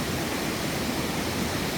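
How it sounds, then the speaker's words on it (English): A small rainforest waterfall spills into a clear creek water hole, giving a loud, unbroken broadband rush of falling water with no pauses and no voices. "Cool little waterfall there and a water hole just above it"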